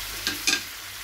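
Buttered shrimp frying in a pan, giving two brief sizzling, stirring bursts over a steady low background hiss, close and fairly quiet.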